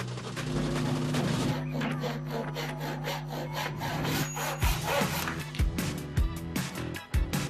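A hand saw works steadily through a wooden lath, its back-and-forth strokes rasping loudly and close by, with a few sharper knocks near the end.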